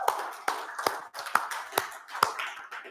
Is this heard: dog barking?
no